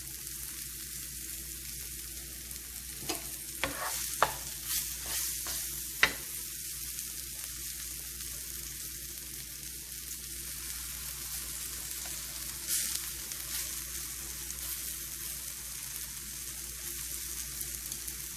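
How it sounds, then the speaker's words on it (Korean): Tough beef stew meat stir-fried in a pan until browned: a continuous hissing sizzle runs throughout, with a quick cluster of spatula scrapes and taps early on and a few more later, no voices. "자, 고기 표면이 이렇게 갈색이 되게끔 굽듯이 볶아주시면 되겠어요."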